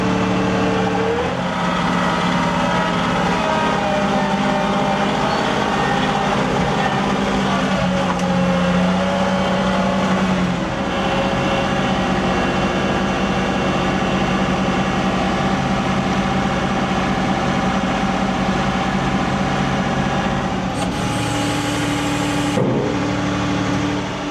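A John Deere 2038R compact tractor engine runs steadily at a low idle throughout, a continuous near rumble with a brief change in tone near the end.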